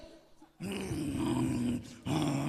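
A man mimics a dog at a village comedy mimicry show, giving a growling, whining dog voice in two sustained bursts after a short quieter lead-in, loud and close.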